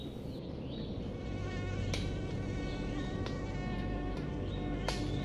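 Swarm of mosquitoes in the jungle of Bang Kachao near Bangkok, a thin whining hum that carries on without a break, close and steady with small shifts in pitch as insects pass near.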